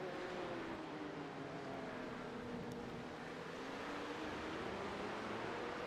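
Porsche Cup race car at VIR in the iRacing sim, its engine a steady sustained drone with slowly shifting pitch, faint and continuous with no voices.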